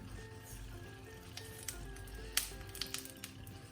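Bratpaprika peppers roasting in a pan give a steady, faint sizzle with soft crackles and a few sharper pops near the end, heard alone without voices.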